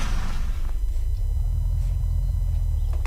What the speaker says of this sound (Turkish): Senin araba sesin geldi bana.